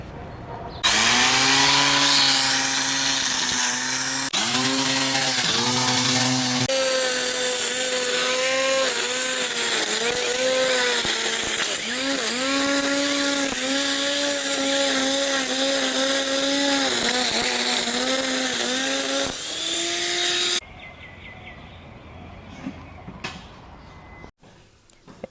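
Home grass cutting machine running with its blade, a loud, continuous motor whine with shifting pitch as it revs and loads, holding for about twenty seconds before cutting off abruptly, leaving faint handling clicks.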